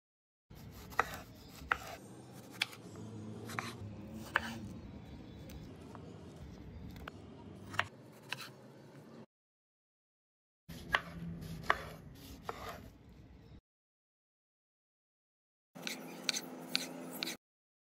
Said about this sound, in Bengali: দুইটা বড় সাইজের টমেটো পরিষ্কার করে ফালি ফালি করে কেটে